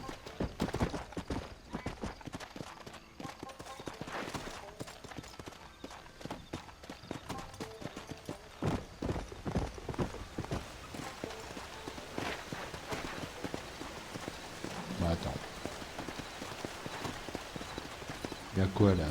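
Horse hooves clip-clop steadily on a path in the Western game Red Dead Redemption, a close, rhythmic trot running the whole length beneath someone talking in French over it.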